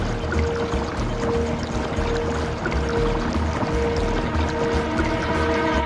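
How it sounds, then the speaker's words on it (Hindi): A cartoon sound effect of river water boiling plays loud and steady throughout, a continuous churning, bubbling wash of water with faint tonal hints beneath it and no voices. "वो देखो, नदी का पानी ऐसे उबल रहा है जैसे कोई खीर गरम कर रहा हो।"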